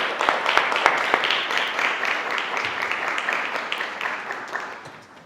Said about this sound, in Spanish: les pido un enorme y caluroso aplauso a Víctor Ruiz Santiago